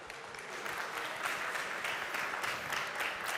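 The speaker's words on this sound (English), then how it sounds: "Please welcome on the stage with a huge round of applause" A conference crowd applauds warmly as a speaker comes on stage, a steady, dense wall of clapping that holds at an even level throughout.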